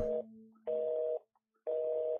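Telephone in a video game, a dial-tone-like steady beep followed by two evenly spaced busy-signal tones after the call is hung up, clean and close with silence between.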